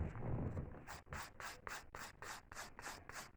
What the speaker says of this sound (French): La première chose, c'est mieux d'enlever un peu le surplus avec un lime.